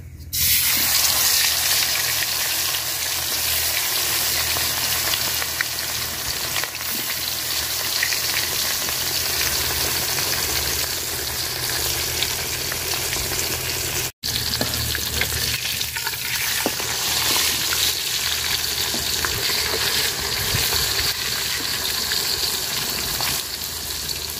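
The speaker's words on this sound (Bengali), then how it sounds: "আমার পাতিলের তেলও গরম হয়ে গেছে। মাছ ভাজা নিব লাল লাল করে।" A large snakehead fish, rubbed with turmeric and salt, fries in hot oil in a cooking pot, giving a loud, steady sizzle and crackle that runs unbroken and close-up with no talking.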